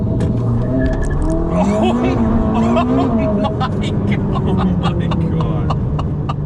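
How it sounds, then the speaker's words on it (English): Ferrari SF90 hybrid launching under launch control, a loud surging engine roar climbing through the gears with tire squeal, close to the car, while a person exclaims over the noise. "Launch control in an SF90."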